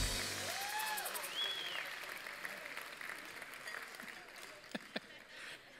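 A theatre audience claps in a steady wash of applause that slowly tapers, with a few whoops and whistles early on and a couple of sharp knocks near the end.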